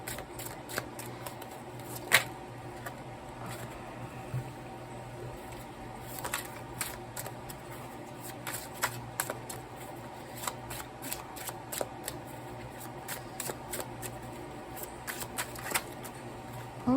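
Slippery tarot-style cards being shuffled during a card reading, a steady run of soft riffling and sharp flicking snaps, close and fairly quiet, with no talk.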